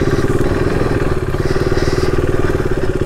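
A KTM RC390 motorcycle rides up a road, its single-cylinder engine a loud, steady, close drone with a throbbing pulse throughout.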